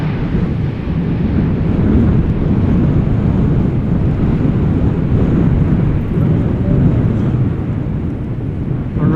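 KLM Boeing 737-900 arriving at Amsterdam Schiphol Airport in crosswind, a heavy, continuous low engine rumble mixed with wind buffeting, loud and steady for the whole stretch.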